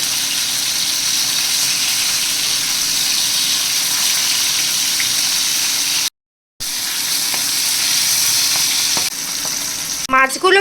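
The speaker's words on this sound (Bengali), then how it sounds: "মাছের একটা পাশ ভাজা হয়ে গেছে, এখন অপর পাশটাও ভেজে নিব" Pabda fish fry in hot oil in a frying pan with a loud, steady sizzle that drops out briefly, then resumes with a few scraping clinks near the end.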